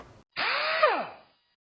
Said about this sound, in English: this looks like a 10mm. Let me go get that socket and we'll get those off.